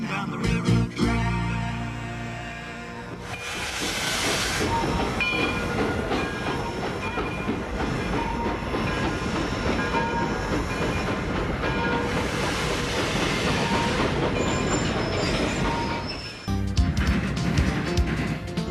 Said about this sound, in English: Diesels rolling through the countryside.